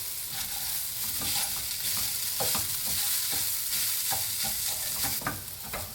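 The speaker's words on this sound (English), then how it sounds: "Just going to stir the rice." Rice sizzles in a hot pan for Mexican rice while a spoon stirs it, giving a continuous frying hiss broken by repeated scraping strokes close by, with no speech.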